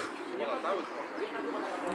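Racing pigeons arriving at the loft after a winter final flight, soft repeated cooing close by over a low outdoor background, with a voice speaking at moments.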